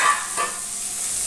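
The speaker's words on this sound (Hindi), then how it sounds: "हमने ये प्याज काट करके रखा है इसे डाल के फ्राई करेंगे" Chopped onions dropped into a hot pan for a mushroom dish, giving a steady bright sizzle with a brief stirring scrape near the start, close and continuous.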